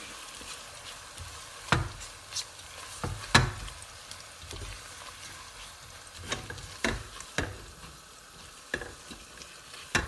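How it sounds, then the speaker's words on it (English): A spoon scrapes and knocks through oil rice in a pot, giving sharp irregular strokes over a low, steady sizzle, close and alone with no voices. "I'm going to be stirring."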